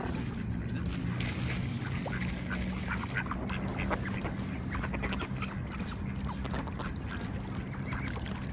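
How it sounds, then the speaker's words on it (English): Gadwall ducks being hand-fed at the water's edge in Bergen give off a busy, continuous chatter of quacks and nasal calls, close and fairly loud over a constant wash of background noise. "They are called snatter ducks."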